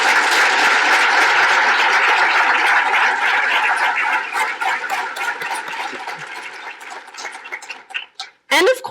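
A crowd claps at a college charter day ceremony, loud dense applause from the start that thins gradually and breaks into a few scattered claps before a voice begins.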